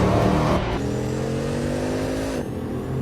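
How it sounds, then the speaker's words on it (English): A Bugatti Veyron Super Sport's 1200-horsepower engine roars loud and close, its pitch climbing steadily through a gear before dropping near the end, with no voices present. "Number 6. The Bugatti Veyron Supersport."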